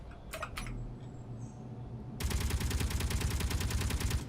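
Rapid automatic interior turret gunfire in the game Space Engineers starts suddenly after a few quieter clicks, a dense, evenly paced burst of loud shots continuing to the end.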